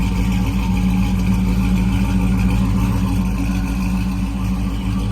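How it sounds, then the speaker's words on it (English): A 1955 Chevy wagon on a Roadster Shop Spec chassis idles with a Black Widow exhaust and X-pipe, a loud, close, steady low burble that holds evenly throughout. "There's different sounds with Black Widow exhaust."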